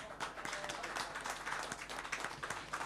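Audience applause after a dedication at a live music evening, a dense continuous patter of many hands clapping at moderate distance, steady throughout with no talk over it.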